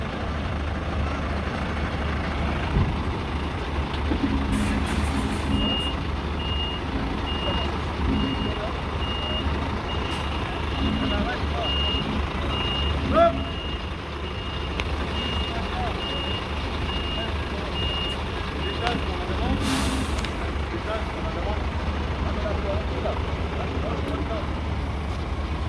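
A large truck manoeuvres at a French road-driver championship, with steady reversing beeps sounding over a low engine rumble while people talk nearby.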